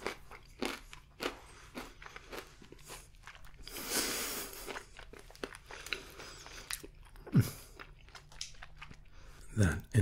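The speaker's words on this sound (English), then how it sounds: "That initial crunch" Crunchy, almost burnt toffee is bitten and chewed close up, with repeated sharp crunches and crackles, a burst of louder crunching midway and more bites toward the end.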